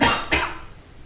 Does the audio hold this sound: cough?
yes